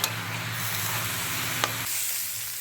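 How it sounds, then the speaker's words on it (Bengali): Mustard greens sizzle steadily in a hot pan with continuous frying hiss, punctuated by a couple of faint clinks from stirring. "নাড়াচাড়া করে এরমভাবে ভেজে নেব আর জলটা শুকনো হয়ে যাবে"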